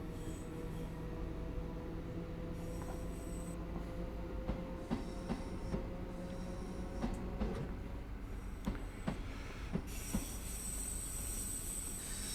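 An electric train on the Cathcart Circle Line in Train Sim World 2 hums along at steady speed, with rhythmic wheel clicks over rail joints, brief squeals and a rising high whine near the end, no voices.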